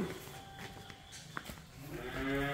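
Cattle in a pen at a farm; a drawn-out moo swells near the end above a quiet, hollow barn ambience, with faint scattered knocks and shuffles earlier.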